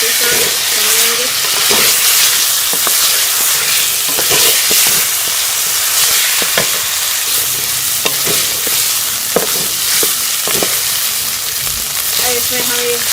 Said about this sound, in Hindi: अब हम इसमें ये बीफ शामिल कर लेंगे, इसे भी हम प्याज के साथ भून लेंगे।